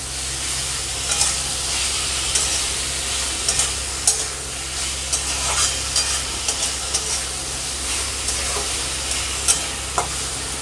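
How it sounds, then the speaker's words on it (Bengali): Potatoes frying in spices for an amodi fish curry (amodi macher jhal): a steady, loud sizzle and hiss throughout, punctuated by scattered clicks and scrapes of stirring in the pan. "আলুটা দিয়ে আমি আরও 5 মিনিট ঢাকা দিয়ে কষিয়ে নেব।"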